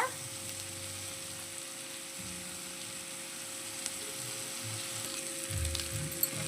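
Brinjal pieces with lemon juice cook in a pan with a faint, continuous soft sizzle and a low background hum, with a few quiet stirring bumps toward the end.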